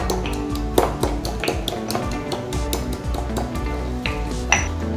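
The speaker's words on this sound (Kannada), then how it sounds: "1/2 ಸ್ಪೂನು ಜೀರಿಗೆ ಹಾಕೊಳ್ತಿದ್ದೀನಿ. ಹಾಕ್ಕೊಂಡು ಒಂದು ಸ್ವಲ್ಪ ಚೆನ್ನಾಗಿ ಫ್ರೈ ಆಗಲಿ." Cumin seeds fry in hot ghee in a pan, with steady crackle and sizzle under repeated sharp taps and clinks of a metal spoon against cookware, close and fairly loud, no talking.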